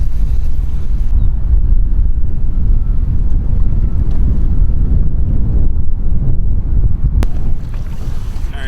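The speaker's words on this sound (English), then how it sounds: "The wind is still doing goofy stuff to me" Strong wind buffets a small boat at anchor on the Columbia River, a steady loud low roar of gusts against the microphone with water slapping beneath, continuous for the whole stretch.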